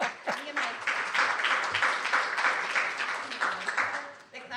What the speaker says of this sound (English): They're clapping that we were 10 years old.